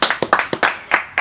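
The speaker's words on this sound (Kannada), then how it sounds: "ಹೊಡ್ರಿ ಚಪ್ಪಾಳೆ." Several sharp, close hand claps in an uneven rhythm, about eight distinct slaps in quick succession, from an audience at a comedy stage show during the Sirsi Marikamba fair.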